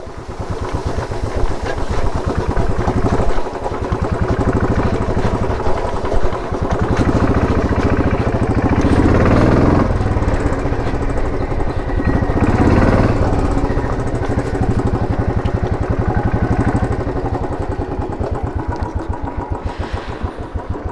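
A motorcycle rides across a waterway on the outskirts of Bangalore, its engine a close, steady, throbbing drone for the whole stretch, swelling slightly now and then.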